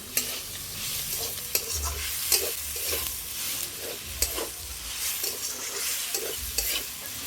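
Semolina and potato mixture with turmeric and chili is stir-fried in a hot pan: irregular scraping strokes of the spoon sit over a steady sizzle, close and fairly loud, with no talking.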